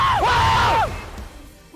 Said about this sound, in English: the screams from the BTR players right there